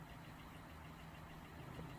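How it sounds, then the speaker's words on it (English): A parked car's engine idling, heard as a steady low rumble and hum with no change in level across the whole stretch, fairly faint and with no voices over it. "his engine's still going. He never turned his engine off."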